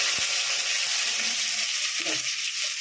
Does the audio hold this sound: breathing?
no